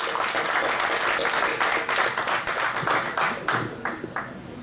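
Steady crowd applause at a Tamil film success meet, dense clapping from many hands that stays loud throughout, thinning slightly toward the end.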